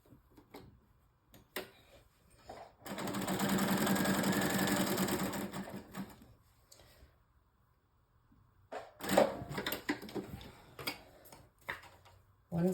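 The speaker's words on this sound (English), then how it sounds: "So I'm going to stick a couple of stitches in here." A sewing machine stitches a paper pocket for a junk journal in one steady whirring run of about three seconds, surrounded by quiet clicks and handling sounds.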